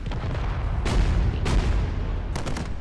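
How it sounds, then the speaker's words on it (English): Explosions rumble through a space video game, with a steady low roar broken by several sharp bursts of blast and crackle. No one talks over them. "There's a bit more of an explosion."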